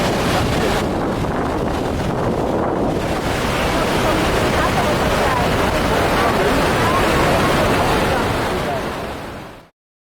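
The roar of Iguazu Falls on the border of Brazil and Argentina, heard from the end of a footbridge as a loud, unbroken wash of rushing water and spray with wind buffeting the microphone, cutting off abruptly at the end.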